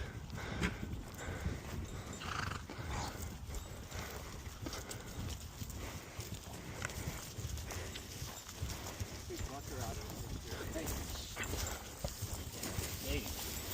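A herd of horses runs close by, their hooves drumming in a dense, continuous clatter that stays loud and steady for the whole stretch, mixed with rushing broadband noise.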